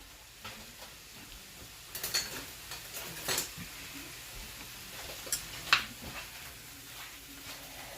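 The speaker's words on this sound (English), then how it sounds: "now I have one of those logs of sausage in my frying pan here." Quiet sizzling of a log of sausage frying in a pan, with occasional clicks and scrapes of a utensil stirring against the metal.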